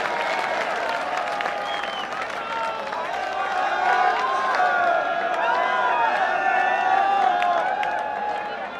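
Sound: audience applause at a mushaira

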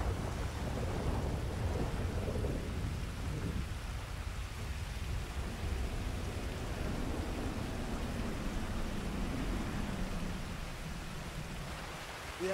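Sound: thunder and rain in Grand Theft Auto 5 video game

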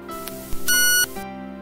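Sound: Victor Reader Stream switching on, startup beep

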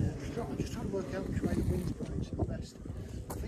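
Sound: wind blowing outdoors, Upper Derwent Valley

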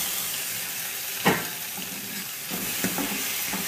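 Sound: tomatoes added to browned onions sizzling in the pan

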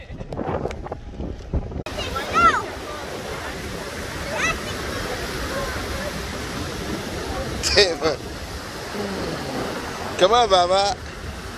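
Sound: waves and wind at the beach

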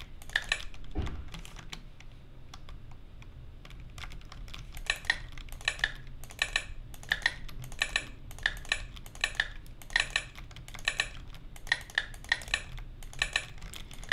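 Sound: computer keyboard typing picked up by microphone

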